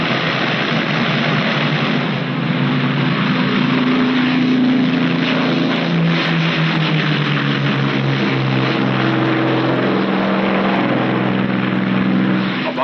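WWII bomber aircraft propeller engines drone steadily in flight, loud and continuous, with a deep throbbing hum that holds for the whole stretch and no voices over it.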